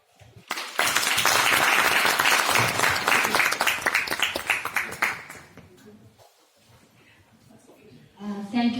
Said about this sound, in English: a wave of applaud to the participants